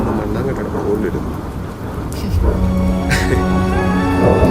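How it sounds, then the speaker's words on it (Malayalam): Heavy rain pours down continuously with deep rolls of thunder rumbling through, loud and close throughout. "നല്ല ഇടിവെട്ടും മഴ"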